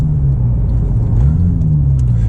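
A Porsche 996 GT2's exhaust booms close and loud, a deep, steady droning growl with slight rises in pitch as the engine pulls.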